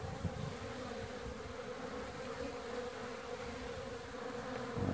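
A constant buzzing hum of many honey bees around a hive in January, a steady drone with no talking.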